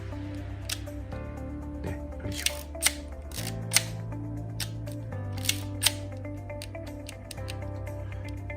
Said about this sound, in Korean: 필름 레버를 2번 감아줘야 셔터를 누를 수 있습니다